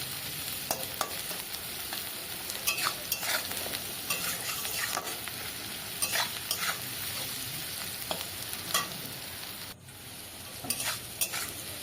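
Onion and garlic fry with a pinch of salt in a pan until reddened, giving a continuous close sizzle broken by frequent scraping stirs of a spatula, with no voices.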